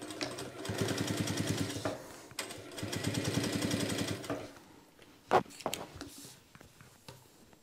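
Sewing machine stitching a backtack at the start of a seam, two close bursts of fast rhythmic needle hammering separated by a short pause, followed by quieter handling clicks.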